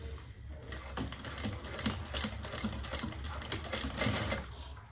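A sewing machine stitches a seam around a fabric bag with rapid, evenly ticking needle strokes, close and fairly quiet, running steadily throughout.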